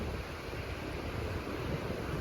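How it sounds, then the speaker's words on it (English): A mountain spring flows out of the ground at a backcountry camp on the Iceline trail in Yoho, making a steady, broadband rush of water with no pauses. "It's a spring coming out."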